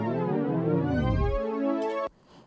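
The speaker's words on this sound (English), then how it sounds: "you can create speed grades, which create tape stop effects" A tape stop effect built from speed grade crossfades in Logic on a glitchy synth: a sustained tone bends sharply downward in pitch as it slows, then a brief burst cuts off abruptly into near silence, all close and loud.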